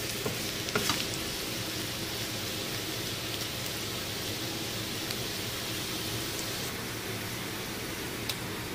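Vegetables (onion, bell pepper and mushroom, already parboiled) stir-fried in a pan, a steady close sizzle and hiss with a few scraping stirs near the start, no talk.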